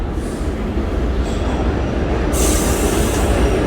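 New York City subway train pulling out of a station, a steady loud rumble of wheels on rails with a brief high squeal, close by throughout.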